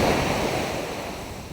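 Sea waves at Poovar beach give a loud, continuous wash of surf, with wind buffeting the microphone. No one speaks.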